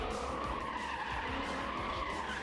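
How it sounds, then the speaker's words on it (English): Car tires burning out and skidding at the SEMA Show automotive event: a continuous loud screech of rubber over a steady engine roar, sustained without a break for the whole stretch. "Tire burning."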